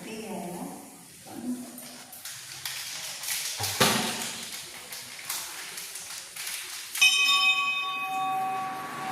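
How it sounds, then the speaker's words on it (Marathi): A temple bell rings in a Konkan village, its clear sustained tones sounding in the last couple of seconds, with people talking throughout. "घंटी वाजत आहे."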